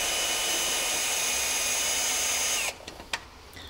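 A power tool whirs steadily and loudly while removing bolts from the air filter housing of a Ferrari 360, then cuts off abruptly near the end, leaving a few small clicks and taps.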